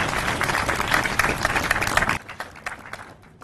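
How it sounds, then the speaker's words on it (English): An audience at a mayor's media briefing claps in a burst of applause that holds for about two seconds, then drops off abruptly to a few scattered claps. "We can give them a round of applause."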